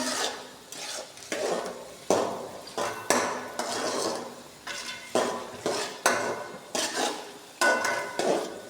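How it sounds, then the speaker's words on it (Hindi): Onions roasting in a pan for a bitter gourd dish, with repeated clattering strokes of a spoon or spatula against the pan, close and fairly loud, in steady rhythm over a faint sizzle. "करेले मैंने काट के निकाल लिए, तो अब मैं प्याज रोस्ट करूँगी"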